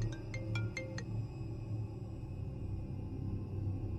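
A phone ringtone chimes in a short burst of about five rapid electronic tones during the first second, then stops, leaving a steady low rumble underneath.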